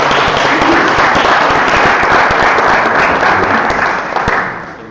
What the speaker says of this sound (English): Big round of applause for sitting on the spot.